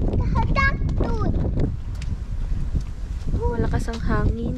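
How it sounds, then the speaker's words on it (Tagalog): Strong wind roars in gusts across an outdoor road, a loud broadband rush filling the gaps while people talk over it. "Malakas ang hangin."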